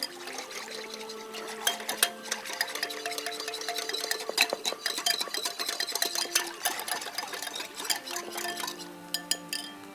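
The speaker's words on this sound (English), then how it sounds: "Let me whisk this up here." A whisk beats sauce in a bowl with rapid, continuous clinking and scraping against the sides, a busy metallic rattle that stays fairly quiet and steady.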